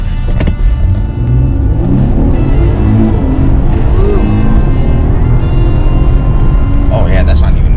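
Infiniti Q50 engine and exhaust fitted with Megan lower downpipes, a loud steady rumble with rising and falling revs, close to the microphone throughout with a brief higher rasp near the end.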